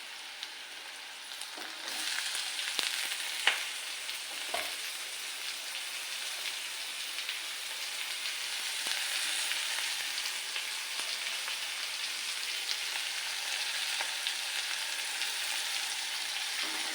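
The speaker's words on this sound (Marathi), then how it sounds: "कांदा चांगला भाजून घ्यायचा" Chopped onion frying in a pan at home, a continuous soft sizzling hiss held steadily at moderate distance, with a few faint clicks and knocks scattered through.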